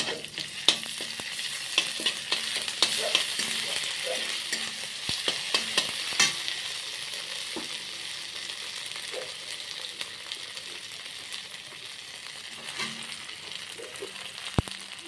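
Ginger garlic paste sizzles and fries steadily in a pan while being stirred, with sharp scraping clicks of the utensil scattered throughout, close and continuous, no talking.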